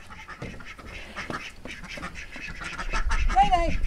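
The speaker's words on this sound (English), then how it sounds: "And the ducks are in their coop now." Ducks quack in their coop, a chorus of repeated nasal quacks at close range that grows busier and louder toward the end, with faint background noise.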